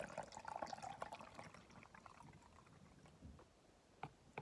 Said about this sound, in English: I'm just going to add some more water to it